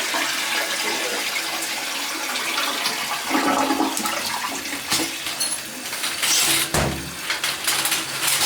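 A household toilet with a drain clogged by too much toilet paper gurgles and rushes with churning water, the flow surging and splashing toward the end.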